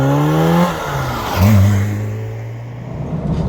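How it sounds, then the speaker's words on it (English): A Peugeot 205 Rallye's engine revs up in pitch, drops as the gear changes, then climbs again in a throaty, rising drone, heard from inside the car on the road. "Oh, nice throaty sound, and the way it revs."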